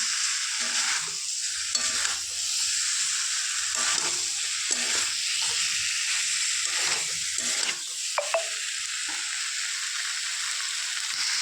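Masala sautés in hot oil for rohu fish curry, a steady close sizzle with regular rhythmic scraping strokes of stirring and a sharper clink near the end, with no talking.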